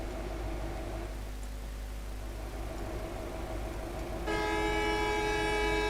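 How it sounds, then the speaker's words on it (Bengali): A sleeper coach bus on a Dhaka to Khulna highway trip hums along, then a loud, sustained horn blast starts near the end, close and harsh over the engine drone. "এত হর্ন দিবি কেন? হর্ন দিস না।"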